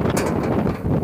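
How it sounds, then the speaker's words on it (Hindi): Strong wind buffets the microphone in a garden during rainy weather, a loud, dense roar with gusty surges across the whole second. "अभी बहुत ज़्यादा तेज़ हवा चल रही है"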